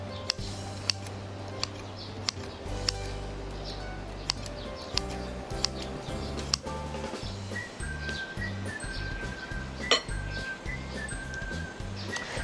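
Scissors snip through kimchi in a mixing bowl with sharp, irregular close clicks and cuts, spaced over a low steady hum and background ticking.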